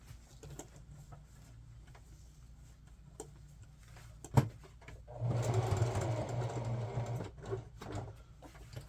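Ticks and clicks from a sewing machine stitching a Penguins throwback hockey jersey lead into a steady two-second run of rapid stitching, close and fairly loud, before it stops.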